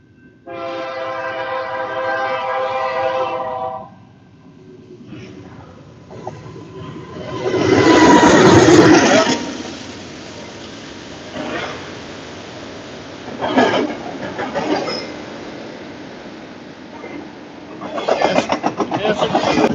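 An intermodal freight train carrying many JB Hunt containers rolls past, its horn blaring in long tones at first, then a loud rumble and clatter of cars that swells and ebbs, with voices talking over it.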